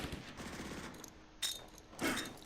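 Gunfire in the Close Combat video game, a Soviet infantry gun battle, with a rattling machine-gun burst followed by two sharp, loud shots.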